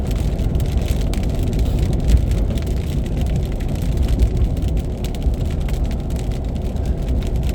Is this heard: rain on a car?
yes